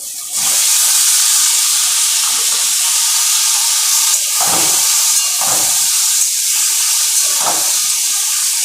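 Potatoes dropped into hot oil with sesame seeds for a Bengali enchor ghonto, giving a loud, steady, continuous sizzle and hiss with a few soft stirring knocks, and no voices.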